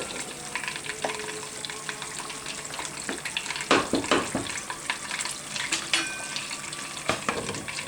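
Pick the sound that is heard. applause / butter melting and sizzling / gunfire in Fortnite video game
butter melting and sizzling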